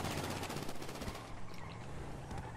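Uzi submachine gun fired in a video game: continuous rapid automatic bursts, fairly faint and distant, holding steady for the whole stretch with no talking.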